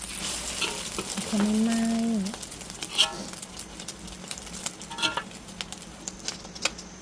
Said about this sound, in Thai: ใส่น้ำมันไป ไปก็รอให้ร้อนแล้วก็ใส่ไข่ลงไป